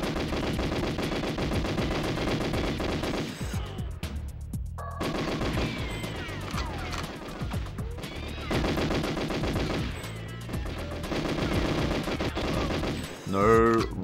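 Gunfire in the video game GoldenEye 007: rapid automatic bursts and repeated shots, loud and nearly continuous, with brief gaps between volleys.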